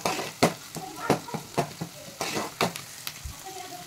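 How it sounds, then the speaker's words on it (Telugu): Ginger garlic paste frying with onions in a pan for mutton curry, with rhythmic scraping stir strokes over a steady sizzle, close and fairly loud. "సో ఇది కూడా పచ్చి వాసన పోయేదాకా మంచిగా ఫ్రై చేసుకోవాలి"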